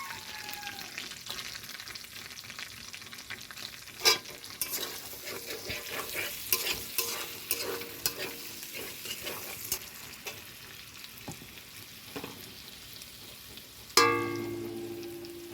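Onion and green chili are stir-fried in a pan just used for frying shrimp. A constant sizzle plays under repeated scraping stirs, with sharp utensil clanks around the fourth second and again near the fourteenth.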